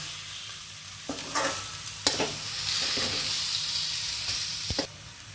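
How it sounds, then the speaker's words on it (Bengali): Prawns sizzle and sauté in a pan for coconut prawn curry, with a spatula stirring and scraping in a few distinct strokes over a steady close frying hiss. "চিংড়ি মাছের কারি তৈরি করছি তো, ওই জন্য একটু ভালো করে কষে নিচ্ছি।"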